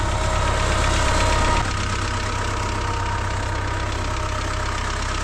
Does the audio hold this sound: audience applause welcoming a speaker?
no